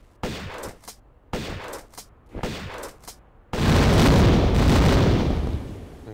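Gunshots from Tomb Raider 1 (1996) in the Sanctuary of the Scion: several sharp pistol shots in quick bursts, followed by a loud, sustained roar of gunfire and rumble.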